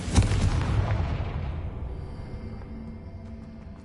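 A single deep booming blast from a Confringo spell in the Hogwarts Legacy video game, a sharp loud hit followed by a long rumbling decay.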